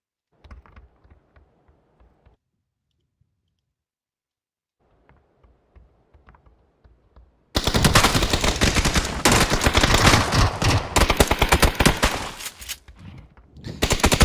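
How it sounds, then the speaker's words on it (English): Shooter video game with quiet clicking at first, then a sudden loud, sustained burst of rapid automatic gunfire that rattles on for several seconds, close and dominant, no voices. "We shoot anything and everything that moves at the end of the game."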